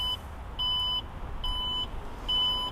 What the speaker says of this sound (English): It does the Italian beeping.